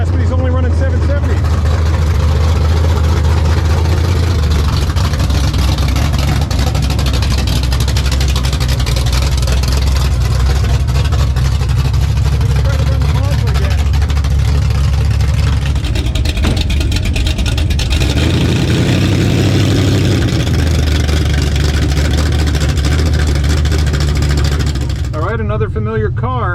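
A drag race car runs at a drag strip at night, its engine roar loud and sustained for the length of the pass, with a shift in pitch partway through and voices talking over it.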